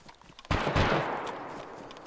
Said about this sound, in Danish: Jeg bliver skudt nede i compounden.